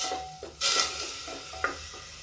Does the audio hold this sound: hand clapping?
no